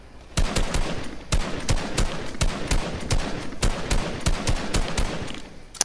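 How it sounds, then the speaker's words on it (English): Gunfire in the Fortnite video game as a player shoots at another player: repeated loud, sharp shots in irregular bursts, close and dominant throughout. "I'm gonna shoot the other guy"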